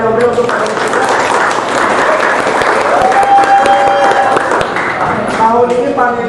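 Applause for panelists at a high school student council debate, dense crowd clapping filling the room throughout, loud and close, with voices talking over it.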